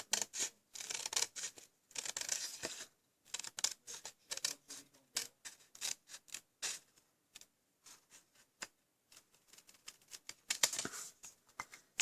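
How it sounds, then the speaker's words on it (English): Scissors snip around the curved edge of designer paper for a handmade card: a close, soft run of crisp, quick cutting strokes, irregular and papery, continuing with brief pauses and no talk. "so come around the curve and cut down."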